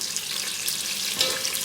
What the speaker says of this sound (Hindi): तो प्याज डाल देते हैं। उन्हें फ्राई होने देंगे,